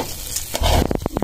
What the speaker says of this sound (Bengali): কতক্ষণ নাড়া দিয়ে ভাজা লাগবে আরো?